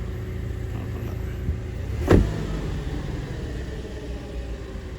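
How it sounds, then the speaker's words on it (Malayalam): A car engine turns over with a brief sharp thump, then settles into a low, steady idling rumble nearby. "വണ്ടി സ്റ്റാർട്ടിങ് നല്ല സ്മൂത്താണ് കേട്ടോ."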